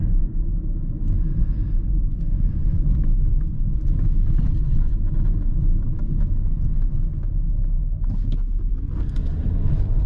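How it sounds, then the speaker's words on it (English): Interior road noise of a 2018 Hyundai Kona SE AWD crossing a rough road at 20 mph, a steady loud low rumble with suspension thumps and rattles throughout, no talking. "we approach this road at 20 miles an hour in every single car we review over here and test out the"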